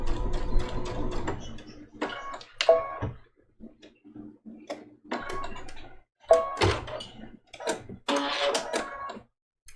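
Sewing machine stitching and back stitching raw edge applique on a Christmas ornament trivet quilt, short bursts of rapid mechanical chatter separated by quiet pauses, close and clear, without voices.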